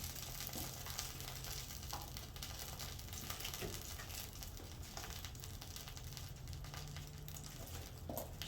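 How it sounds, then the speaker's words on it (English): Faint, steady sizzling and fizzing with tiny scattered crackles as sugar from an apple pie spills and cooks in a Dutch oven, quiet and continuous throughout. "I can hear some of the sugar kind of spilling out and sizzling"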